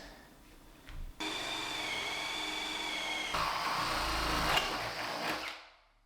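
A drill with a wood bit whines steadily at high pitch while boring straight through a wooden interior door, rising slightly in strain before winding down and stopping.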